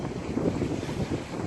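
Heavy surf pounding behind a sea wall at Coffs Harbour in stormy weather, a continuous low rumbling wash of waves mixed with strong wind buffeting the microphone, no voices.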